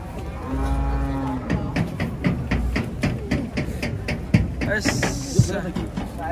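A cow lets out a long, deep moo up close while being unloaded from a truck, followed by a second lower moo, with people chattering and livestock shuffling around it.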